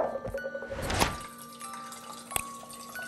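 A glass of water is drawn in a kitchen late at night, with a brief trickle of running water and a few small clinks, quiet and close with no voices.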